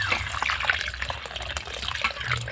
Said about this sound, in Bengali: আমাদের অনেকজন এসেছে না, ননদরা আছে আর তার নাতিপুতিরা আছে, এই জন্য জলটা দিতে হচ্ছে